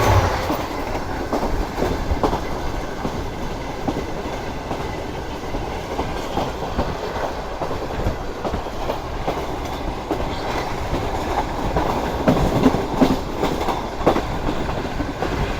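Pak Business Express passenger train running on rails between Karachi and Lahore, a steady loud rumble of wheels with rhythmic clickety-clack over the joints, continuous and close throughout with no voices.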